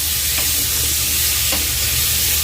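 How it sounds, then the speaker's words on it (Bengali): Pointed gourd and potato pieces fry in a pan with a dense, constant sizzle, while two brief scrapes of a spatula stir them, close and loud. "একসাথে পটল আলুটা ভালো করে আবার ভেজে নিচ্ছি।"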